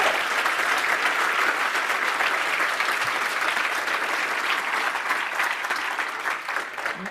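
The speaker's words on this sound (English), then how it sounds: "All right, audience, applause first." Sustained audience applause at a security conference talk on hacking as an act of war, steady and dense throughout, fading slightly at the end.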